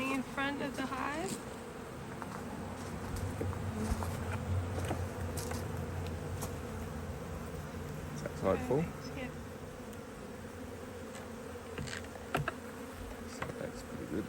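Honey bees buzz densely around an open HiveIQ beehive, a steady close swarm hum with individual bees zipping past, while people speak briefly over it.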